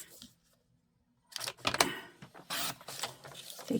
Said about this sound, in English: So let me grab my trimmer.